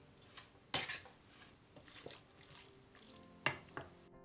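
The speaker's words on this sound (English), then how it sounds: "Mix and the stuffing is ready." Stuffing of scallops, shrimp and breadcrumbs mixed in a bowl, with soft wet stirring and a few sharp utensil knocks against the dish, close and fairly quiet.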